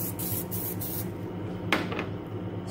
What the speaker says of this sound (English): I'm going to spray cooking oil here in the top of the aluminum foil